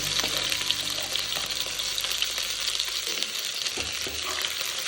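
Ginger going into cumin already frying in hot oil, giving a loud, dense, continuous close sizzle with light stirring and a brief sharper spatter as it settles.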